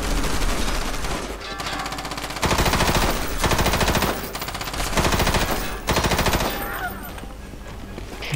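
Loud machine gun fire from a mech in the video game Front Mission Evolved, pounding out in long rapid bursts separated by brief breaks, with game effects underneath.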